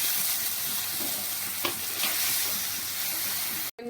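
Tomatoes sizzle and fry in a pan with onions, curry leaves, ginger-garlic paste and turmeric, a steady close hiss with a couple of brief stirring clicks, ending in a short cut.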